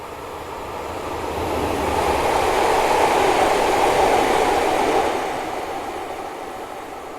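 Locomotive 37344 hauling a train past East Midlands Parkway station at night, heard as a broad rumbling roar that swells over a few seconds and fades away, steady and fairly loud with no talking.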